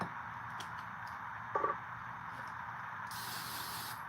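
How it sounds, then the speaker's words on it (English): Hairspray is sprayed to set makeup powders, a steady close hiss near the end of the clip with a small clatter of handling just before it. "you would grab some of your hairspray"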